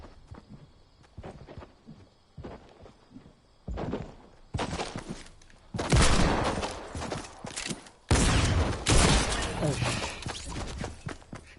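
Shotgun blasts in a Fortnite battle royale match, several loud bursts of gunfire cracking through the game mix between lighter footstep and movement sounds, with players chatting over it.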